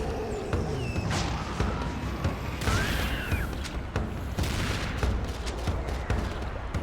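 Rapid weapon fire in Serious Sam 2 crackles and booms in dense, overlapping bursts, with loud shots following one another almost continuously throughout.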